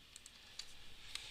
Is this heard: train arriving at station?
no